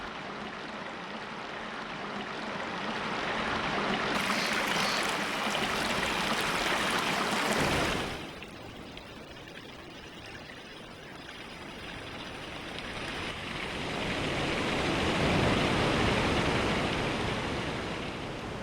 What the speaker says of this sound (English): there is spring water coming out of the rock, flowing down into the waters of the river